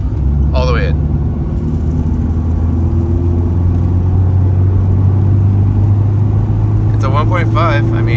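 Honda Civic 1.5 engine accelerating hard in third gear, a loud, steady droning growl that holds and climbs throughout from inside the cabin, with brief spoken words near the start and end.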